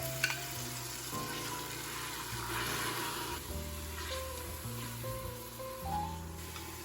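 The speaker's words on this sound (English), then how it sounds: "add the onions and saute for about 5 minutes" Onions sautéing in olive oil in a large pot over medium heat, a soft continuous sizzle and crackle heard close but quiet, with steady low tones running beneath it.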